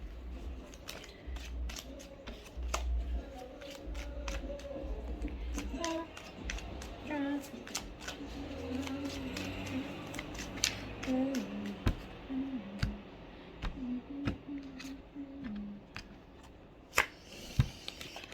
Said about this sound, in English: I've been the greatest at shuffling lately.